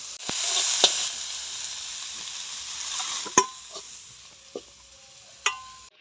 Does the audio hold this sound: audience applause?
no